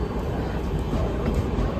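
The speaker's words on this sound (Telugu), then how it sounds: "east Coast express" Steady low rumble from the East Coast Express passing at Secunderabad railway station, a continuous heavy rolling drone with no break and no voices.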